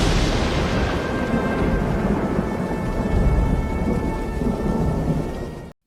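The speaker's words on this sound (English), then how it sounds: "rainy night." Heavy rain pours steadily through a dark, rainy night in an AI-generated scene, with deep rumbling thunder rolling beneath it before everything cuts off abruptly.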